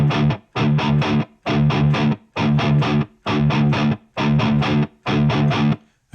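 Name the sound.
distorted guitar playing industrial 16th-note gallop rhythm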